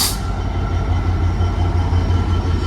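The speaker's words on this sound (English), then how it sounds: "It is going to stop it though for a passing train." A train rumbles past close by on the West Coast Main Line, a loud continuous roar with a steady rhythmic pulse from the wheels over the rails.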